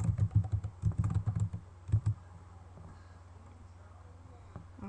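Quick, close bursts of computer keyboard typing as a form name is entered in a program, followed by a quieter stretch of low hum.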